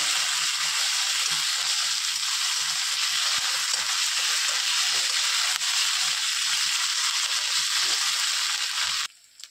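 A ginger, garlic, onion and cumin spice paste fries in a pan with a constant, loud hissing sizzle, soft stirring scrapes running beneath it until it cuts off at the end.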